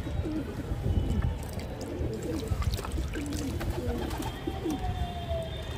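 A pigeon coos repeatedly, close and clear, while water trickles and splashes faintly in the background during the bird's bath.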